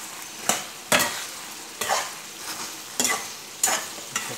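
Ridge gourd curry frying in a pan while being stirred, a soft continuous sizzle broken by several sharp scraping strokes of the spoon at irregular intervals, close and with no voices.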